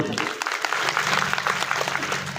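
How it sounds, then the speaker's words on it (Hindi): Loud, sustained audience applause at an outdoor political rally of tribal and Gurjar community members in Rajasthan, a dense crowd of clapping hands that holds steady throughout. "उनके लिए भी आप जोरदार तालियां बजा दें"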